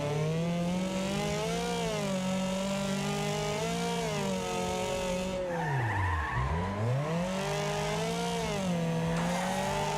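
Race car in the Wreckfest driving game braking hard into a corner, its engine note sweeping down steeply as the tyres skid and squeal, then revving back up; continuous and loud with no talk.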